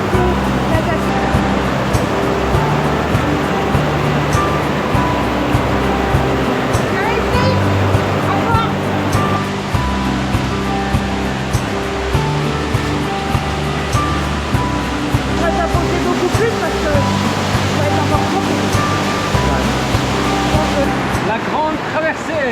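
Steady broadband roar of a waterfall on Flores, Indonesia, loud and continuous throughout with no break, voices faint and partly buried beneath the rushing water.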